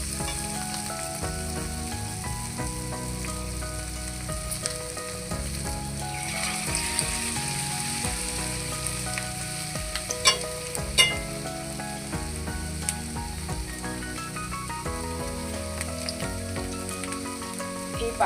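Aloo sabudana pakoras, potato and sago fritters, fry in hot oil with a continuous bubbling sizzle, occasional clinks of a spatula and faint background music.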